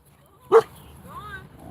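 A dog lets out a single short, sharp bark close by, followed by faint whining yips, against a low background hum.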